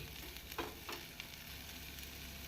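Potatoes frying and being stirred in a pan over a high flame, a steady quiet sizzle with a few soft scraping strokes of the spoon early on.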